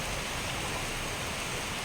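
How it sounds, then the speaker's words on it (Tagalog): Steady heavy typhoon rain hisses in a dense, even wash of noise with no pauses, fairly quiet and unbroken. "malakas ang ulan doon sa batasan may libis"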